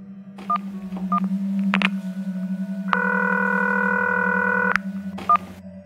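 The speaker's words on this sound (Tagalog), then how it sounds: "Kinuha nito ang phone at agad na may tinawagan." A telephone is dialed on speaker: short keypad beeps sit over a steady low line hum, then a longer sustained tone plays, followed by a few more beeps. Nobody speaks.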